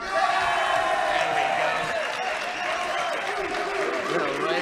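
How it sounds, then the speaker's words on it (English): Wrestling crowd in an arena roaring and cheering as a wrestler drives knees into an opponent outside the ring, a dense sustained wall of voices with whoops, while a commentator talks over it. "he's on the outside now, sinking the knees in, and the crowd responds"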